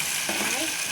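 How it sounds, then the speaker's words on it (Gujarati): Onion and tomato sizzle steadily in hot oil for a brief moment, a dense, even frying hiss with a faint stir partway through and no voices. "તો આપણે પહેલાં ડુંગળી ને ટમેટું શેડવી નાખવાનું છે."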